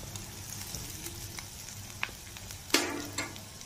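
Panch phoron, chopped ginger and asafoetida frying in hot oil give a soft, steady sizzle, with a sharper crackling burst near the end.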